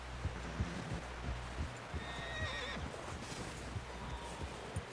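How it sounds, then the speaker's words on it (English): A horse in Red Dead Redemption 2 neighs partway through over a steady rhythm of thudding hoofbeats, fairly close and moderately loud, with no talking. "Someone help John down off this horse"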